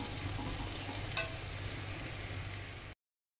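Dal sautéing in a pan for banana flower usili, a quiet steady sizzle with a single sharp scrape of the spoon partway through, then the sound cuts off.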